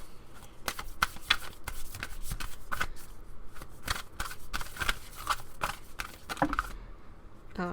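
Tarot cards being shuffled by hand, a run of crisp riffling bursts and taps in an irregular rhythm, close and fairly quiet, ending in a short pause.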